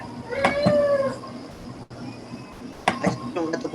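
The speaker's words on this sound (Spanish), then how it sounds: "Ahí se escucha un gato por ahí" A cat meows a few times close by, with short tonal cries rising over a background of people talking.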